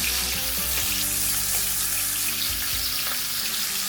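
Something stir-fries in a pan with rosemary and garlic flavoured oil, giving a steady, moderately loud sizzle with a faint low hum beneath, continuous with no voices.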